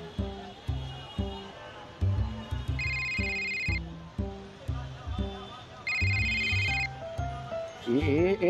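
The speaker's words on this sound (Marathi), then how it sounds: "अरे त्यांचा फोन आहे. अरे मग उचल ना." A telephone rings in a Marathi TV serial scene, two separate bursts of a bright electronic tone over background music and voices.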